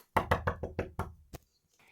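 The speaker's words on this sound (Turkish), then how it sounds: "bu kapıyı da kim çalıyor?" Someone knocks on a house door in a quick run of six sharp, evenly spaced raps that get slightly weaker, then one last firm knock after a short pause, followed by quiet.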